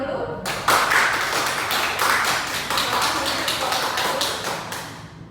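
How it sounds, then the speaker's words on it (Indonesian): Classroom applause during a microteaching session, a dense burst of many hands clapping that begins abruptly, holds steady for about five seconds, then fades out. "Yuk kita beri aplaus terlebih dahulu."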